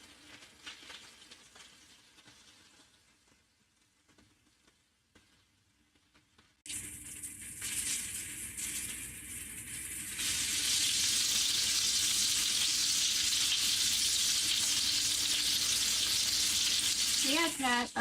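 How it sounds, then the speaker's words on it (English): Cooking oil frying in a pan: after a quiet start, a sudden loud hiss of sizzling bursts in and grows to a dense, constant crackle that lasts to the end. "And also the oil now sounds very angry."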